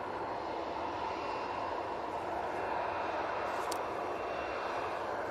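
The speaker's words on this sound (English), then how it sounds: "The next arrival will be the Ryanair coming in from Cork, 737." A Ryanair Boeing 737 MAX 8 arrives from Cork at Manchester Airport, a faint, steady wash of jet engine noise that holds evenly across the stretch.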